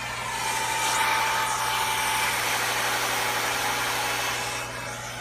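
A Dodge Challenger engine played back through a phone speaker gives a steady, thin idling rumble with a constant hum, holding level throughout and easing slightly at the end.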